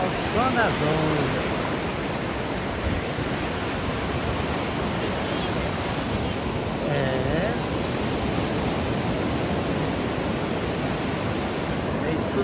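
Ocean surf at Praia do Tombo beach in Guarujá during a surfing competition, a steady, loud, broad roar of breaking waves throughout, with brief faint voices near the start and again around seven seconds.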